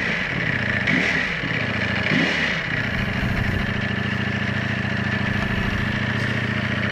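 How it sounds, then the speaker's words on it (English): A Ducati Panigale V4 sport bike engine runs loud and close, a steady idle with two brief blips of revving early on. "Ducati Panigale V4, 214 horsepower, kids."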